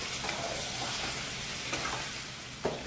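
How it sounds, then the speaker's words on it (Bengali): Chicken sizzles softly in a pan as it is fried down with spices, the quiet steady crackle broken by a few scraping stirs of a spatula near the end. "একটু কষাবো, কষিয়ে নিয়ে সামান্য জল অ্যাড করব"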